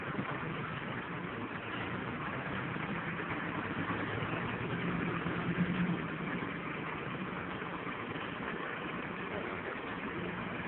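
Steady engine rumble with broad road noise from a vehicle rolling along a dirt road, constant and fairly close, no talking.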